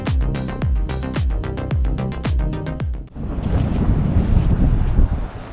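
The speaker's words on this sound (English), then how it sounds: "This is Reynisfjara Black Sand Beach." Wind buffets the microphone and surf rolls in at Reynisfjara black sand beach in Iceland, a loud, broad roar that follows a few seconds of rhythmic music.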